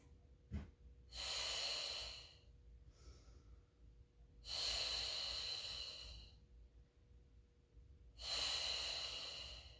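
Three long, slow breaths during a Pilates mat teaser hold, each a broad airy rush lasting a couple of seconds, evenly spaced, fairly faint and close, with no talk.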